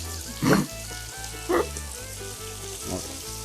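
Steak and tomatoes fry in a pan, a steady sizzle with three short louder bursts of spattering as food is moved or added, close up, with no talk.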